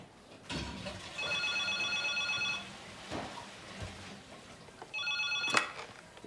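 A telephone bell rings in two separate trilling bursts with a pause between them, along with a few soft thumps and some room noise.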